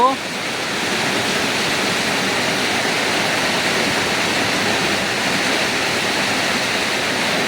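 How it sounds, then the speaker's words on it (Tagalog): A dense, steady roar of heavy rain pours without pause, a constant wash of hissing noise close all around. "non-stop ang ulan guys"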